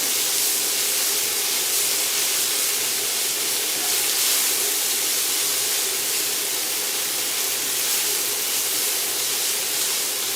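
Loud, constant sizzling hiss of garlic and ginger frying in a very hot pan with onions, filling the whole stretch without any talking.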